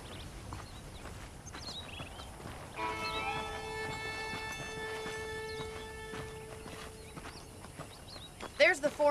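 Horse hooves clip-clop at a walk in the video game Red Dead Redemption, faint and steady beneath a sustained musical tone and game ambience, with a few sharper knocks at the end.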